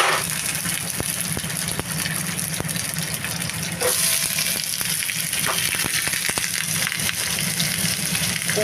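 Pumpkin, potato and onion fry in hot oil with leftover water, a loud constant sizzle broken by sharp pops and spits as the water bursts, heard close with no talking.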